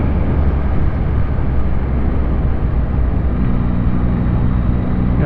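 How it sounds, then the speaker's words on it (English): A 2023 Yamaha MT-09 motorcycle on its stock exhaust rumbles steadily at low revs, a loud, close, continuous drone with no talking over it. "Even the stop exhaust sounds nice."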